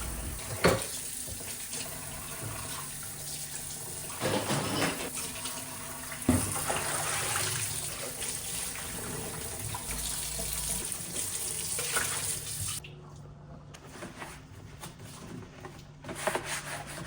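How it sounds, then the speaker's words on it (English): Tap water running into a kitchen sink while dishes are washed, a steady close splash with occasional clinks and rubbing, the flow dropping away near the end before a few brief knocks. "I move on to washing the remaining dishes and reloading the dishwasher."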